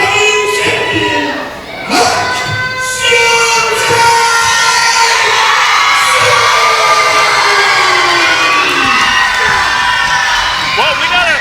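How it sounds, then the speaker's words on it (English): A wrestling crowd at a PCW event cheers and shouts loudly, a dense roar of many voices with rising yells, dipping briefly near the start before swelling again and staying full. "Well, we got a pretty evenly divided crowd here, Buck."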